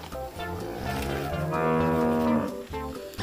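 A very white, fat cow gives one long, loud moo that swells in the middle and fades out, heard close and alone.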